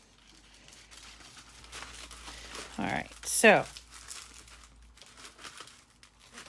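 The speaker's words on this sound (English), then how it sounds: "just kind of crumpling up" Crepe paper crumpled by hand while shaping a giant paper peony gives a short, crisp crinkling burst midway, framed by a few spoken words and quiet room tone.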